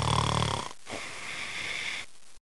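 One person snoring, a short rasping, wheezy breath that cuts off abruptly, with no talking.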